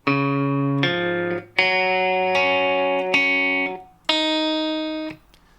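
A distorted electric guitar plays a slow sequence of chords, each one picked and left to ring before the next, loud and upfront.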